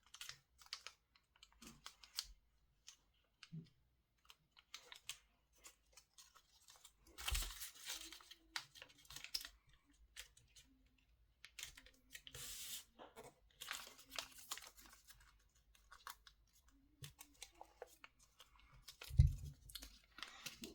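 Origami paper being folded into a dinosaur: soft, scattered creases, taps and crinkles with occasional louder rustling bursts, close and fairly quiet, alone with no talk.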